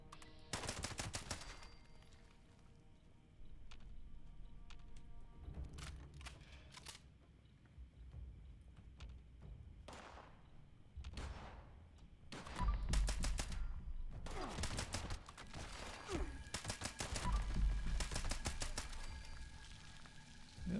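Gunfire in the post-apocalyptic shooter Fallout 76 rings out in sharp bursts and rapid automatic volleys, some near and loud, others more distant, spread across a long stretch of combat noise.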